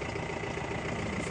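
A used car's engine idles with a low, steady rumble, even and continuous with no change in pitch. No speech.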